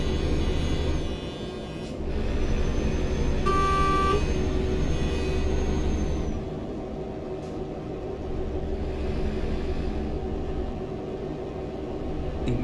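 A car horn gives one short honk in Euro Truck Simulator in central Hamburg, heard over a steady low truck engine rumble that continues throughout.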